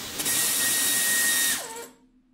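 An air impact wrench runs steadily for about a second and a half, then winds down, while nuts come off the A-arm suspension of a Corvette C3 in a garage.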